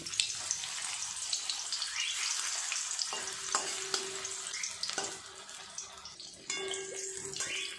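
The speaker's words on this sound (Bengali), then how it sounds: "এই কাবাব দুটো ভাজা হয়ে গেছে, উল্টে অপর পিঠটাও ভেজে নেব।" Chicken kebabs frying in a pan, a steady moderate sizzle and crackle with a few brief breaks where the sound dips, no voices.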